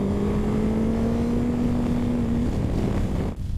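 A Suzuki GSX-S1000GX motorcycle engine is held in second gear, a loud steady drone that climbs slowly in pitch under wind rush, then drops off briefly near the end.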